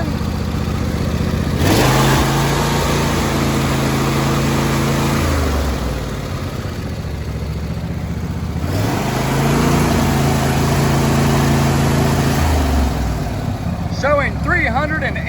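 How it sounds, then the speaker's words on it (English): A John Deere D130 lawn tractor with a 42-inch deck and a 22 horsepower Briggs & Stratton engine runs steadily and close, with its pitch rising and falling twice as the throttle changes. "It's got a 22 horsepower Briggs and Stratton engine."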